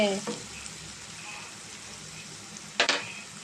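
Dried prawns frying in a pan with chilli powder and coriander seeds for a gongura curry, a steady soft sizzle throughout with a brief louder clatter of stirring near the end.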